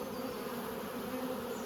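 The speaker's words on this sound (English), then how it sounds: "So there's 5 frames of bees there." Honey bees buzz steadily around an open nucleus hive during a transfer into larger boxes, a continuous close insect hum with a sharp knock at the very end.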